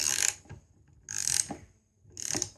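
A ratcheting wrench tightens a nut on a skateboard truck, producing three short bursts of quick, close metallic clicking separated by brief pauses.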